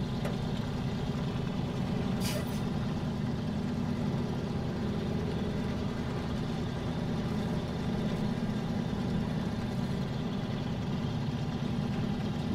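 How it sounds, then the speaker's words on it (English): A Fleet Star truck in the video game SnowRunner, in the Ontario region, labouring under load: a loud, steady low engine drone that holds an even pitch, with one brief higher whine partway through and no talking. "He's going to be working that engine hard."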